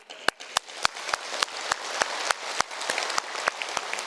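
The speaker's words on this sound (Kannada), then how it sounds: "ಕೈ ಎತ್ತದವ್ರಿಗೆಲ್ಲ ಚಪ್ಪಾಳೆ ಹೊಡೀರಿ." An audience at a yoga camp claps in unison: a steady, evenly spaced beat of sharp claps over a dense wash of scattered hand noise, fairly distant, with no talking.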